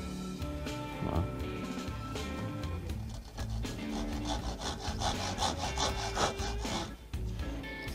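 A hand saw rasps steadily through a wooden dowel in a workshop, with rapid back-and-forth strokes, close and continuous.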